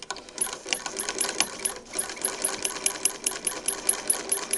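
An older Singer Model 20 sewing machine stitches tightly woven quilting cotton, producing a fast, even, close-up mechanical clatter of rapid rhythmic clicks that runs continuously at a soft level.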